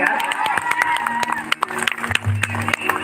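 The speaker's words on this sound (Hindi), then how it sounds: "ताली हो जाए यार" Audience clapping and crowd noise at a live Rajasthani folk program, a dense spread of claps under music and a singing voice, fairly loud and close.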